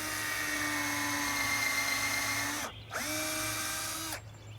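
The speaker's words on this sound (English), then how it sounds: "I'm gonna pre-drill the hole." A power drill whines steadily at high pitch while pre-drilling a hole in wood for a raised garden bed, briefly stops, then spins up again for another short burst before cutting off, close and loud.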